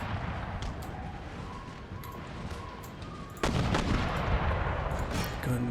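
Battle gunfire in Empire: Total War rattles on as a dense, rumbling stream of distant musket volleys, thickening into a louder, heavier roar of shots and booms in the second half.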